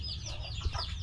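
Chabo bantam chickens clucking softly in a backyard coop, brief low murmuring clucks and chirpy calls in a short, faint burst, with no talk.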